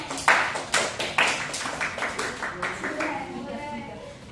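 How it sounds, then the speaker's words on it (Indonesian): A small group of students in a classroom claps in a quick, steady rhythm, loud at first and gradually fading over a few seconds. "Silakan tepuk tangan dulu untuk kelompok konsumen"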